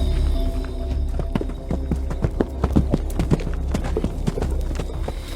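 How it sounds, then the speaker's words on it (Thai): Horse hooves clip-clop in an irregular, continuous patter of sharp knocks, fairly close and loud over a low steady background rumble. "เสียงฝีเท้าม้านี่"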